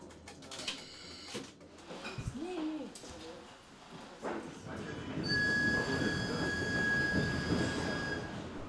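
Passenger train, an evening service from the station, running with rumbling wagons, then a sustained high wheel squeal over steady rail noise for the last few seconds, with bird calls and faint voices in the background.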